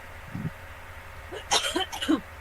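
A single close, short sneeze bursts out between moments of quiet talk in a room, followed by brief murmured voices.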